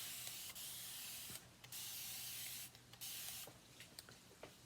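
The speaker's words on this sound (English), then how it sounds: "So I'm just going to spray this with water." Spray bottle misting water onto a chalk-decorated sign, several sharp hissing pumps of varying length close to the microphone, with small taps and clicks in between.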